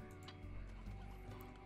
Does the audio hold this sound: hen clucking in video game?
yes